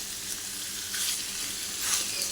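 Taro stolons frying with shrimp and spices give a steady hiss, with the loose rustle of stirring swelling and fading as the pan is worked, close and alone without any voices.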